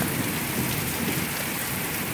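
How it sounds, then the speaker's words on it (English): Heavy rain pours steadily in a thunderstorm, a dense, even wash of noise with a low rumble of thunder underneath, close and continuous with no voices. "And now it's actually starting to heavily rain, which is what I was hoping for."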